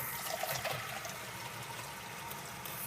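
Water from a tap pouring steadily into a two-cup liquid measuring cup for cooking rice, a faint continuous splashing stream with no talk.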